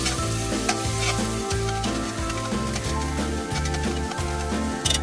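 Vegetables coated with tomato sizzle steadily in a hot pan while being stirred for beef short ribs, with a rhythmic scraping pulse every second or so over constant frying hiss, close and alone.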